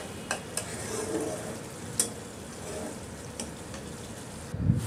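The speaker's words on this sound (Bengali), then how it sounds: "দিয়ে ভালো করে এটাকে কষিয়ে নিতে হবে যতক্ষণ না এর থেকে তেল বেরিয়ে আসে" Ground spices, including chilli powder, sautéing in oil for a chicken curry, with a continuous loud sizzle broken by occasional sharp spatula taps and scrapes against the pan.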